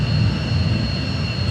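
Steady close jet engine roar with a constant high whine as an airplane lifts off during a fighter training flight, loud and unbroken throughout with no talk.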